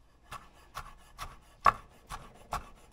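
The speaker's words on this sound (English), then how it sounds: "Same thing with the peppers. Cut them in half." A knife chops peppers on a cutting board in seven evenly spaced, crisp close knocks, about two per second, with nothing else heard.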